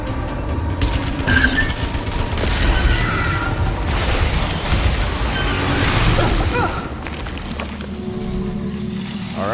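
Weapon fire in the Returnal video game on PlayStation 5 comes as a dense stretch of booming blasts and bursts, loud and continuous, with a quieter tail toward the end.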